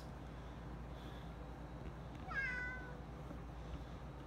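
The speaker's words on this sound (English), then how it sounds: "the cat has taken over the bed where I was going to do this video, so I'm gonna have to move him" A cat lying on a bed indoors gives one short, fairly faint meow partway through, rising and falling over a quiet room hum with no talking.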